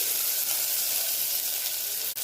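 Onion dropped into a hot oil tempering with asafoetida and curry leaves sizzles in a loud, continuous hiss up close, broken by a brief dip just before the end, with no talking.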